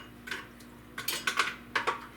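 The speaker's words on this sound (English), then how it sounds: "then I just kind of mix it up a little bit" A utensil clinks and scrapes against a bowl while yeast and sugar are mixed for challah bread, a string of close, bright taps and scrapes in an uneven stirring rhythm.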